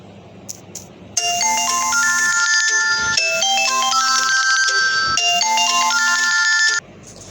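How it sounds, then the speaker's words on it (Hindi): Phone ringtone playing a bright, repeating electronic melody three times in a row, loud and close, with brief gaps between the phrases and no speech over it. "किसी का फ़ोन आ गया था"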